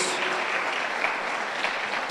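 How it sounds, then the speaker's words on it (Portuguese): A church congregation applauds during an evening worship service, a steady wash of many hands clapping at moderate level, dense and even throughout with no talk on top. "Você pode aplaudir Jesus nessa noite?"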